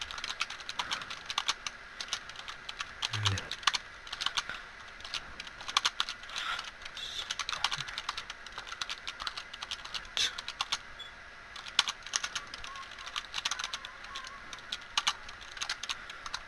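Computer keyboard typed rapidly during a Nitro Type online typing race, a dense stream of close plastic key clicks lasting throughout, with faint background sound.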